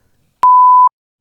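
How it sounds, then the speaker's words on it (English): A single clean censor beep, a pure steady tone about half a second long, sounds alone against silence, loud and abrupt at both ends. "It'll get beeped."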